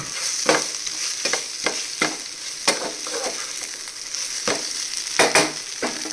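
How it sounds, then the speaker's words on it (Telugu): Chicken and eggplant fry with coriander and curry leaves in a pan, a constant bright sizzle punctuated by repeated spatula scrapes and stir clatters, close and loud, with no talking. "ఫైనల్గా కొత్తిమీర కరివేపాకు వేసుకుని ఫ్రై చేసేసుకుందాము"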